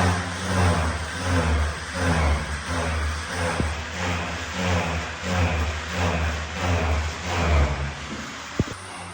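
A generator runs nearby to power lights, a loud, steady engine drone with a slow, rhythmic pulsing in its tone throughout.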